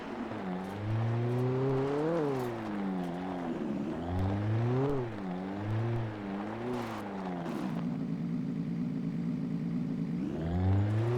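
A car driving in Alan Wake Remastered, its engine droning close and loud and rising and falling in pitch as it accelerates and shifts, with no speech over it.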